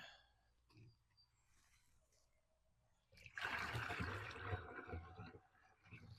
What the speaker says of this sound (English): So first thing I'm going to do is pour my water in.